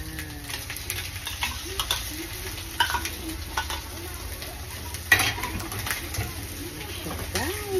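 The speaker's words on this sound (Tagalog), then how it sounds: "mix the egg." A spatula scrapes and taps against a pan while eggs are stirred over sizzling heat in a home kitchen, with a steady fry hiss beneath irregular clinks and a voice talking over it.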